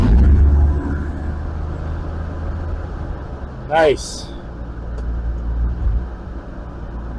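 A 1954 Chevy 3100 half-ton pickup with a repaired ignition coil rumbles low and steady after starting on choke, its engine idling close by under a brief spoken word and a passing whine.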